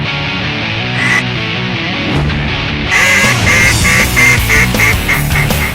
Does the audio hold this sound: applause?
no